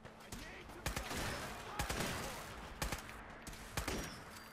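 Heavy-recoil gun fired in Fallout 4, sounding as four loud, booming shots spaced about a second apart, each with a sharp crack and rumbling tail over steady game ambience.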